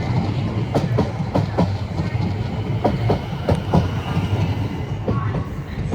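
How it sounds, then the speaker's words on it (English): A Class 701 electric train runs through Clapham Junction toward Woking, its wheels beating a regular clickety-clack over rail joints against a continuous low rumble, close and fairly loud with no voices. "here we have 701043 down for Woking from London Waterloo"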